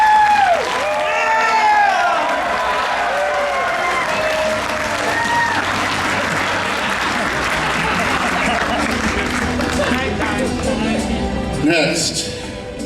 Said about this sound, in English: Everyone, please give a round of applause for Mr. Jeff Best